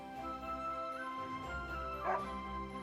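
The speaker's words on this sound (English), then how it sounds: "But this dog's name definitely isn't Pochi." A dog in the video game Another Code Recollection gives a few soft yips and a short bark-like whimper over a sustained, tonal game music backdrop, fairly quiet and without talking.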